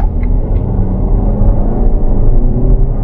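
A 2022 Lexus NX350 F Sport crossover SUV cruising on a road, a loud continuous low engine and tire rumble with smooth, even intensity and no speech.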